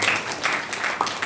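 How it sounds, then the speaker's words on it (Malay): Brief scattered clapping from a small audience at a Quran recitation and call-to-prayer class, a short burst of a few hands lasting barely over a second. "Tepuk tangan sikit."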